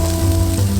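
Garlic sizzling in hot ghee for a crab ghee roast, a close, loud, steady frying hiss with a low hum underneath, lasting under a second.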